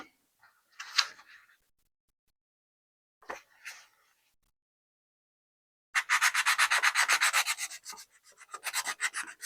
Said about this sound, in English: I'm going to take my 600 grit sandpaper and I'm going to sand the rest of this